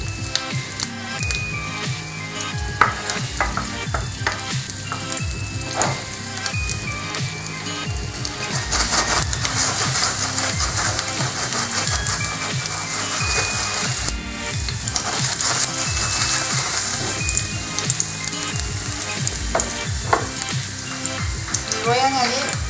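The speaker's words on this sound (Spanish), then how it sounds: "El aceite ya está caliente, voy a añadir el ajo. Voy a dejar que se saltee un poco." Garlic sautéing in hot oil in a pan, a loud, steady close sizzle and crackle that continues throughout with dense popping and occasional stirring.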